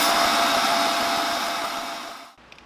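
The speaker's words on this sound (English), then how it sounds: "We'll hit the vacuum with it one more time." A loud, steady whooshing roar of a vacuum cleaner runs continuously, then cuts off abruptly near the end, leaving near silence.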